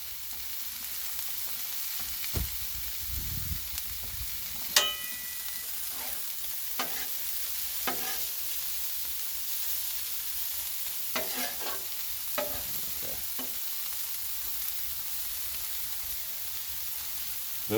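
Double-stuffed pork breakfast quesadillas on whole wheat tortillas sizzle steadily on a Blackstone griddle, a constant bright hiss broken by occasional scrapes and taps of a spatula, with no talking.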